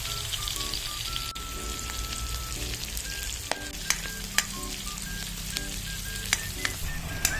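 Food sautéing in cooking oil in a pan gives a steady crackling sizzle, punctuated by occasional sharp pops and clinks of stirring utensils.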